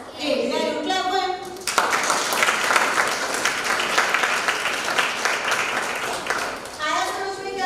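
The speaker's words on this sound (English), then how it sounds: "Clap for him." A classroom of grade 6 students claps for a classmate during a maths lesson, a dense burst of applause lasting about five seconds, with a teacher's voice heard before and after.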